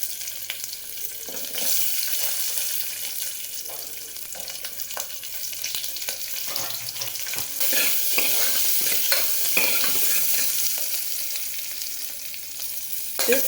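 Dried red chillies and shallots fry in a pan, a steady close sizzle broken by scraping stirs and occasional pops throughout.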